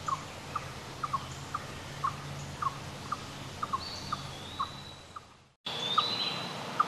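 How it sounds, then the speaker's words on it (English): An eastern chipmunk repeats a sharp chirping call about every half second in an upland forest, steady and fairly near, while a thin whistled bird note rises behind it; the sound briefly cuts out near the end. "It's the chirping call of the chipmunk."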